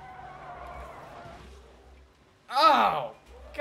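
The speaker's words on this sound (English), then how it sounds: "And he accidentally throws it into reverse." A car in BeamNG.drive is thrown into reverse at speed, bringing a sudden loud tire squeal and skid after a stretch of low engine drone. A voice is heard around it.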